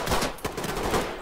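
Gunshots in the tactical shooter video game Ready or Not, several overlapping cracks and short bursts at moderate loudness, irregularly spaced over a second or so with no talk.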